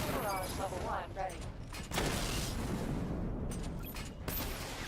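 A missile barrage fires in a video game, a dense stretch of rapid booming launches and mechanical rattling that carries on loud and steady for the whole span, with a brief voice near the start.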